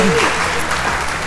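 Audience applause on a German teleshopping-style stage show, loud and close, with a voice talking briefly over the opening moments.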